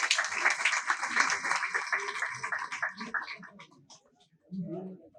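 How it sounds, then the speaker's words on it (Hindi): Audience applause at an Uttar Pradesh government meeting, a dense burst of clapping that fades out, with voices speaking over it and after it. "इनके लिए एक जोरदार ताली बराबर हो जाए"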